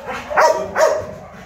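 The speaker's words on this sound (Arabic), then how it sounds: "كما كتشاهدوا معنا كلب مخدوم" A dog barks twice in quick succession, fairly close and loud, with a visit going on around it and no talk over the barks.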